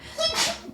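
A single sharp sneeze, short and close, bursts out in a quiet room during a tabletop game session.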